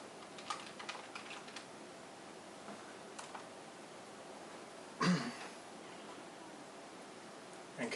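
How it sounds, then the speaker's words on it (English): Password being typed on a computer keyboard during setup of a Marsboard A20 board, a few faint quick key taps in a quiet room, followed by a louder clunk partway through. "So I'm going to type in my password."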